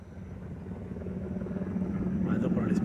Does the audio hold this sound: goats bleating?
no